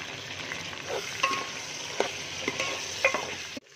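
Chicken sizzles in a pan of browned onions, garlic and ginger for biryani, a steady frying hiss with a few soft stirring scrapes and clicks near the end, no talking.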